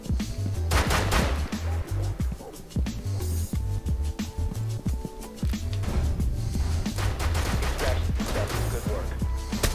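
Rainbow Six Siege gunfire rings out in repeated rapid bursts and single shots, loud and close, with players talking over the shooting.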